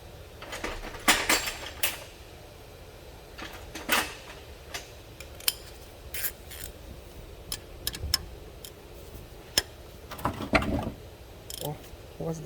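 Someone works a 14mm bolt loose from the alternator of a Hyundai Veracruz, with scattered close metallic clicks, taps and clinks of the tool arriving irregularly for several seconds.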